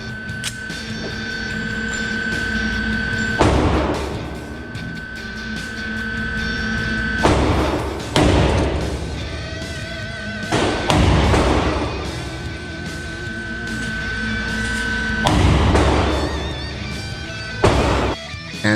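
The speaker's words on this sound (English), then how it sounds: "But let's load up 3 rounds and let's take a look." An IAI AutoMag III pistol fires at a range. Loud, heavy shots ring out seconds apart, each followed by a ringing decay over a constant background drone.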